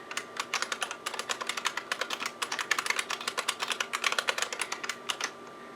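Rapid, steady keystrokes clatter on a computer keyboard, an even run of close, crisp clicks with no voices over it.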